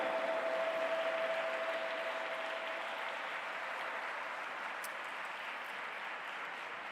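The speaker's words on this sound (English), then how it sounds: "welcome, with a round of applause" Audience applause at a G20 Interfaith Summit welcoming Michael K. Young: a steady, dense wash of clapping from a large crowd that holds throughout and eases slightly toward the end, with a faint steady tone beneath.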